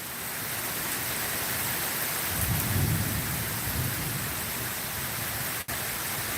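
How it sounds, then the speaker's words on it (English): Steady heavy rain hisses throughout, with a low rumble of thunder swelling near the middle, then a brief dropout before the downpour resumes. "it's a cold rain in July and it's thundering"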